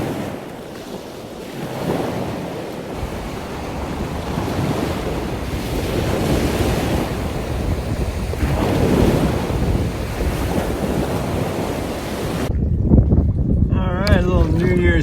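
Surf washing onto the beach at Garden Key in the Dry Tortugas, with rolling waves and gusty wind buffeting the microphone throughout; a brief voice is heard near the end.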